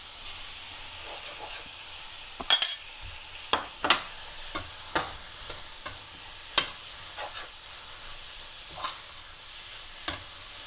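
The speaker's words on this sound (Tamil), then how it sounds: "இப்போ இந்த தூளால் கொஞ்சம் இப்படி எண்ணெய்களை வதங்கின உடனே இந்த மீண்டினை போடுவோம்." Tinned fish fries in oil in a pan for a Sri Lankan fish relish, a soft steady sizzle broken by a dozen sharp scraping stirs at close range.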